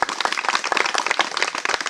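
A village crowd claps together in a steady, dense burst of hand claps at a gram panchayat gathering in Sultanpur, close and fairly loud with no speech.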